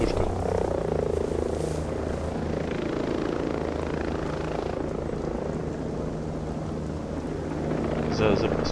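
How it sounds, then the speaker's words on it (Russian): Helicopter circling overhead in the video game Ghost Recon Breakpoint, a steady droning rotor and engine roar held throughout at moderate loudness, with voices talking over it. "Летит вертушка."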